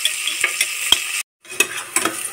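Onion fries in a pan with a steady loud sizzle, broken by scraping stirring strokes and a brief pause, and no voices.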